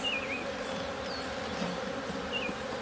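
Honey bees buzzing around an open backyard hive during a spring inspection, a continuous close hum with a few higher whines of individual bees flying past, no talking.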